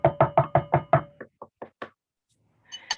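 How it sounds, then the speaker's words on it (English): An audience at a live storytelling show knocks on nearby surfaces: a quick series of six loud, evenly spaced raps, then four softer scattered knocks, with a little stray noise at the end. "If you have something to knock on, now is the time to knock on it."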